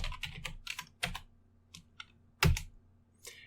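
Typing on a computer keyboard while writing Python code: clusters of quick key clicks with short pauses between them, and one louder keystroke later on, close and unaccompanied by talk.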